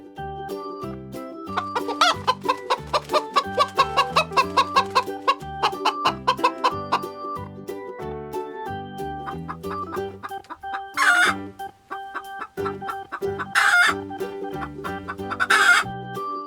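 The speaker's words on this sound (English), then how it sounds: "Chicken." A chicken clucks in a farmyard, a long run of rhythmic close clucks followed by a few louder, drawn-out calls, all alone with no talk.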